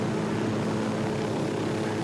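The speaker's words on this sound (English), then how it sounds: "Get this helicopter down." A helicopter in Ghost Recon Wildlands holds a steady, loud rotor and engine drone that fills the whole moment with no talk over it.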